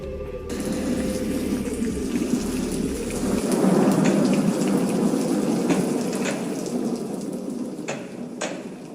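A thunderstorm lashes down with heavy rain and hail, a steady loud downpour swelling in the middle, with sharp crackling thunder bursts near the end and no voices.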